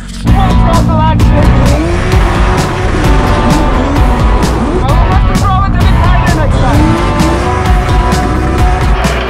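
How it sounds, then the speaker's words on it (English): A Nissan S15 drift car being driven hard on the Poznan racetrack, with a loud revving engine and repeated long tire squeals from the skids, sounding close and continuous while crowd chatter runs faintly underneath. "we want to abuse a bit our drift car"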